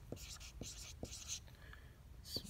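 Pen writing on paper while sketching a trachea anatomy diagram, short scratchy strokes in bursts, faint and close, with quiet speech between.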